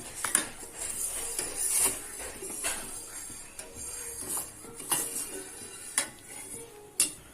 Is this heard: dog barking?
no